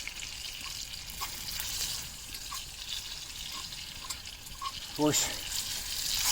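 Chunks of sausage sizzle and crackle in a frying pan as they brown for sausage gravy, a fork breaking them up; a steady close hiss runs throughout, with occasional voices over it.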